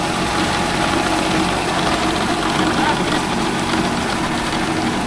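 A Mahindra 605 S tractor engine runs in creeper gear on farmland with a rotavator, giving a loud, steady, continuous diesel drone with a knocking rumble and no break throughout.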